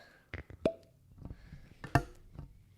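A whiskey bottle's cork pops open with a sharp, close plop, followed by a second louder pop and light handling clinks in a quiet room.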